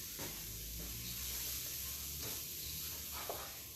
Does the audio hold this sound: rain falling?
no